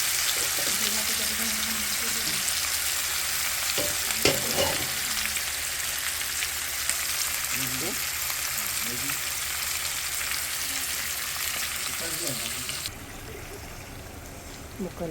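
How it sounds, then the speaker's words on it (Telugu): Pieces added all at once cook uncovered in a pan of hot oil, producing a steady, close sizzle with occasional stirring knocks. The sizzle drops noticeably quieter near the end. "ఇప్పుడైతే ఇందులో ముక్కలు వేసుకుందాము. ఒకేసారి వేసేసాను ముక్కలు అయితే."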